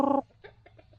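Chickens on an Ilocano farm give a short loud burst of clucking, followed by several fainter, soft clucks spaced out over about a second.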